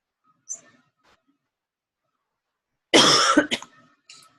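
A teacher coughs during a lecture: a single loud harsh cough burst with a short follow-up, after near silence with a few faint small sounds.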